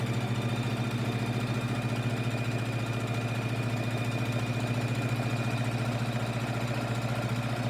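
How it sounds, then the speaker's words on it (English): A sewing machine runs steadily, stitching around the top edge of a fabric tote bag, a continuous even motor hum with fast needle chatter throughout, close and fairly loud with no talking. "let's quickly sew around the top 1/4 inch or scant 1/4 inch of the bag"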